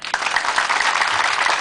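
Audience applause at a civic service event in Haiti, a dense steady wash of many hands clapping at close range that fills the whole short stretch without a break.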